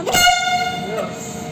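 An EN62 Impuls electric multiple unit shunting at Rzeszów Główny station sounds a loud horn blast with strong harmonic tones that fades into a steady ringing drone, with a second faint swell near the end.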